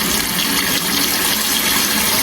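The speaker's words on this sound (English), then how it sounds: "We're going to wash it." Warm water runs from a tap to wash salt off a wildlife coat rack, a loud, close, steady splashing gush that does not stop, with no voices over it.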